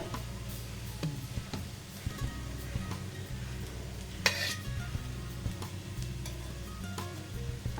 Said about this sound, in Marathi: आता इथे एक चमचा तूप घालूया